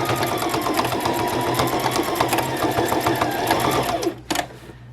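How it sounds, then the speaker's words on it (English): A sewing machine runs steadily and loudly as it stitches straight across wallet pockets, a dense rapid whir that stops abruptly near the end, followed by a couple of sharp clicks. "So I'm just sewing it straight across, and then I'm going to back stitch at the top of each slot."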